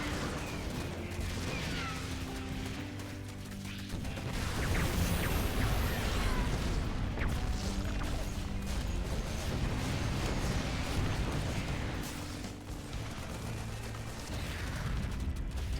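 StarCraft 2 battle as a bunker and depots come under attack, dense rattling gunfire and clanking mechanisms with bursts and thumps of explosions, continuous and busy throughout, with no talk.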